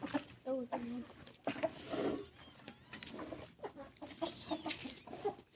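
Hens clucking in short bursts close by, with someone talking over them now and then.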